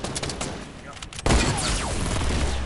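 Gunfire in a video game, scattered shots followed by a sudden loud, heavy sniper rifle blast whose crackling tail carries on to the end.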